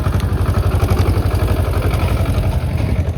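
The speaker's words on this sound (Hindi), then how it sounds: "भाई ये ट्रैक्टर ना पूरी सीढ़ियों पर से ट्रैक करते हुए आ रहा है नीचे से" A tracked tractor descends stone stairs on the Kedarnath trek route, its engine chugging loudly and close in a steady rhythmic throb with clattering from the tracks.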